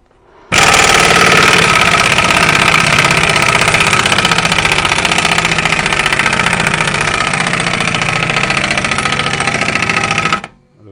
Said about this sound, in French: Là, ma clé à choc est... Je vois que ça force.